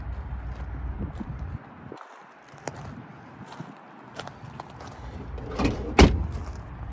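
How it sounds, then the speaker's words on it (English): Doors of a 1955 Ford Thunderbird with a 292 engine are opened and shut, giving several separate clunks and latch clicks, the loudest slam near the end, against a quiet outdoor background. "Doors open and shut very well."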